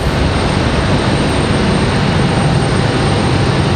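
Airbus A220 airliner departing Raleigh Durham International, a loud, steady broadband engine roar that fills the whole moment without pause or voices.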